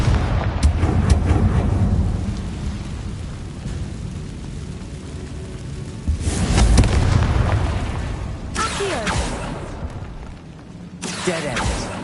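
Booming fire spell blasts in Hogwarts Legacy, heavy explosions rolling one after another over continuous rumbling battle noise, loud and close, with a few sharper bangs near the end.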